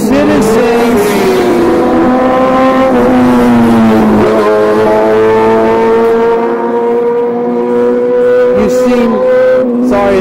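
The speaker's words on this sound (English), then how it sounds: "Sorry, it's really loud with those motorcycles." Loud motorcycles pass close by, their engines roaring with sustained, shifting tones and rising revs that fill the whole stretch without a break.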